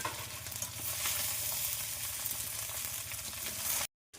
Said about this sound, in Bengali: এরকম করেই সব ভাত ভাজি নেব।